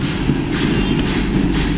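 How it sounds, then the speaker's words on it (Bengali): A train at a railway station platform, a loud steady rumble of rolling carriages close by for a couple of seconds. "ট্রেন দিয়েছে আমাদের 5 নম্বর প্ল্যাটফর্মে"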